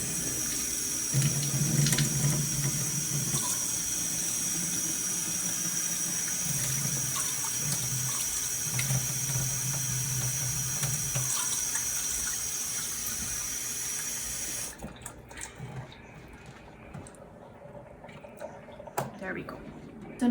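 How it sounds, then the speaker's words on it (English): Water runs steadily from an Enagic water machine for about fifteen seconds, a constant hiss and splash with voices faintly underneath, then stops, leaving quieter room noise. "I'm going to take our water that we drink from this machine"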